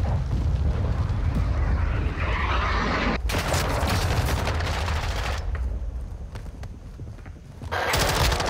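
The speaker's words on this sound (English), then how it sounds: "Cruise missile approaching target." A cruise missile strike explodes in Call of Duty: Modern Warfare II, a loud, sustained roar of blasts and rapid gunfire that dips briefly before surging back at full strength.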